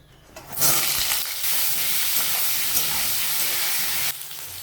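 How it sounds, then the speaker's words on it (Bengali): A loud, steady hiss of pointed gourd frying in hot mustard oil starts abruptly and holds, then drops slightly near the end. "পটলটা ভাজা হয়ে গেছে"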